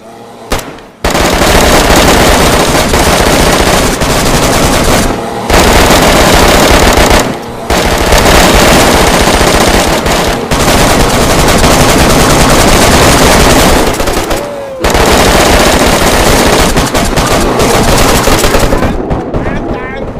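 Loud, sustained automatic gunfire in the video game DayZ, with dense rapid bursts that run almost continuously and are broken only by a few brief pauses.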